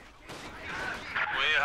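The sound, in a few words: AT grenade hitting half-track in video game Company of Heroes 2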